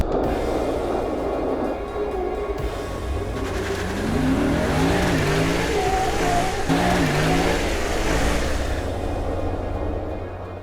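A Lexus IS500 F Sport's uprated V8, carried over from the IS F, revs up and down in rising and falling sweeps, loud and close with a deep, steady exhaust note.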